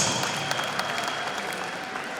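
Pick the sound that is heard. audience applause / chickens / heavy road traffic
audience applause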